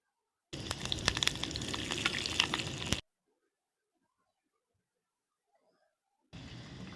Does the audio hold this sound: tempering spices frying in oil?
yes